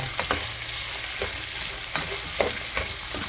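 Pork ribs sauté in a pan with a soft, steady sizzle, broken by sharp scraping knocks of a utensil stirring them every half second or so.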